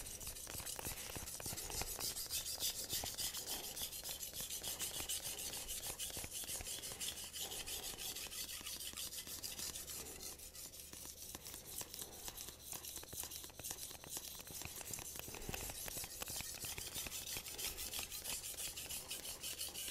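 Steady, close rasping strokes of a knife blade being sharpened on a synthetic Japanese whetstone, a continuous gritty scraping with a fast rhythmic texture, fairly quiet and without talk.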